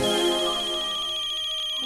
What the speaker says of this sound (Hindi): मैं कमलेश को फोन करता हूँ।